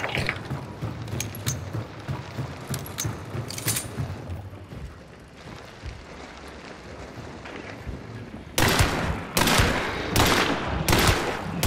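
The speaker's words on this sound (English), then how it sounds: "I'm gonna go ahead and reload." Mechanical clicks and metallic clacks of a gun being reloaded in the game Hunt: Showdown, a run of sharp close clicks at the start, a quieter stretch, then several loud gunshot bursts toward the end.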